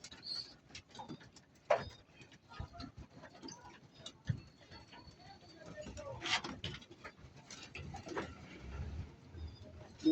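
Hungry pet pigeons peck at feed, producing scattered quick taps and ticks on a hard surface with soft cooing and rustling, faint and close.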